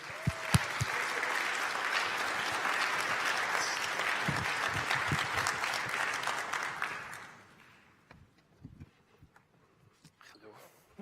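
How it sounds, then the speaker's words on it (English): Conference audience applauds to welcome a speaker at a Vue.js developer event, a loud, sustained crowd clapping with a few shouts that fades out after about seven seconds, leaving someone talking alone. "Give it up, give a warm, big applause for Jan Niklas Wortmann, everybody."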